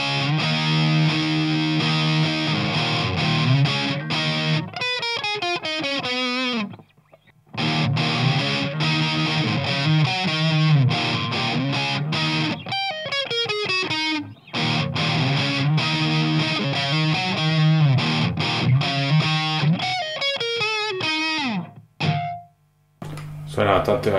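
A Stratocaster electric guitar played through a DOD Metal X FX70 distortion pedal, loud saturated chords and sliding riffs in long phrases broken by brief pauses, with a short cut near the end.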